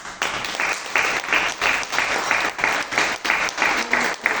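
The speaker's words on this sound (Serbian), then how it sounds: "Slobodno jedan aplauz." An audience claps in steady, full applause at an International Children's Day event in Belgrade. The clapping is loud and close and lasts the whole few seconds without pause.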